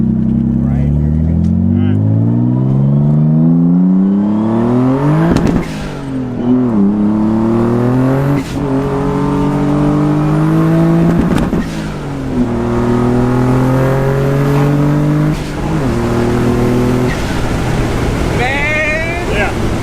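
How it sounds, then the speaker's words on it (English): A 1991 Nissan 300ZX twin turbo, a 900-horsepower build, accelerates hard through the gears, its engine note climbing loud and close with brief dips at each shift and a rev-limiter bounce, with occasional voices in the cabin. "I'm gonna do a pull after I get around this corner and get used to it."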